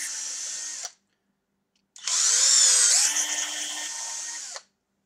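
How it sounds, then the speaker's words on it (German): Two bursts of a power drill whirring close by as it re-drills holes in a toy Bruder Mercedes Arocs tipper truck, a short run, a pause of silence, then a longer whine that shifts pitch as it bites in. "Die bohren wir auch einmal nochmal nach."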